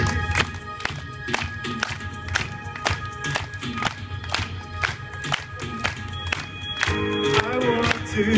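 Banquet audience clapping hands in steady rhythm along with live music being recorded, sharp evenly spaced claps continuing for several seconds over the band's groove.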